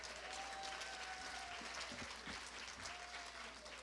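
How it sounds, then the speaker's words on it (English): Steady audience applause at a children's literature honor lecture at the University of California, Santa Barbara, a dense wash of many hands clapping that holds for the whole span at an even level, with a faint tone running underneath. "Another round of applause for yourselves."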